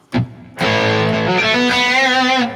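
Rock guitar played through a Fractal Audio Axe-FX 3 plexi amp model, a 50-watt high-gain style tone: a short distorted stab followed by a loud sustained overdriven chord with slight vibrato, fading at the end.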